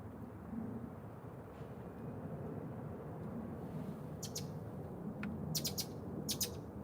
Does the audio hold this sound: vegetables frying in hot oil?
no